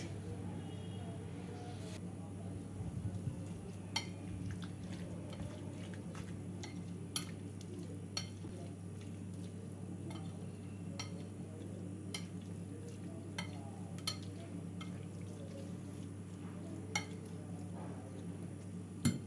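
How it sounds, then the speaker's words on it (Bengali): Grated cheese being mixed into a bread and vegetable mixture, soft squelching stirs with scattered spoon clicks and taps against the bowl over a steady low hum, close and quiet. "চিজ দিয়ে ভালো করে মিশিয়ে নিলাম"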